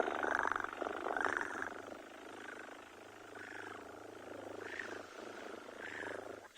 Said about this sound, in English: I just wish you were able to hear now the purring that's good.